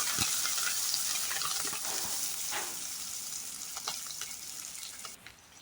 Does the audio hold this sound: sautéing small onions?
yes